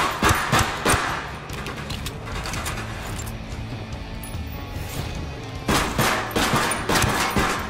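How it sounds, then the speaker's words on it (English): Bursts of gunfire in the tactical shooter Ghost Recon Wildlands, rapid automatic volleys at the start and again near the end with a steadier rumble of fire between, loud and close. "I'm opening fire on these shitheads."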